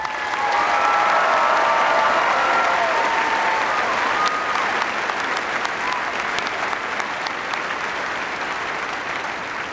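A large convocation crowd of incoming freshmen applauds steadily in a big hall, dense sustained clapping with a few cheers, fading slightly toward the end.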